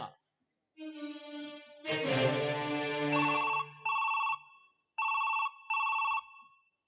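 A telephone rings on an outgoing call during a stage drama: a loud electronic ringtone melody plays, then settles into repeated bursts of paired tones separated by short gaps, with no talking.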